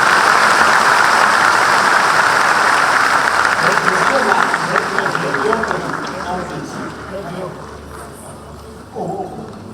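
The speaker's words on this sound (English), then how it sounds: "A louder round of applause, ladies and gentlemen" Audience applause at a spiritual talk event, a dense, loud round of clapping that gradually fades toward the end, with some voices mixed in.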